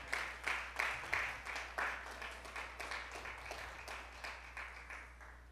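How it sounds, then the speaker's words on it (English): A church congregation applauding during a sermon, a fairly faint round of rhythmic clapping with distinct pulses that slowly tapers off. "Come on, somebody give Jesus a hand of applause"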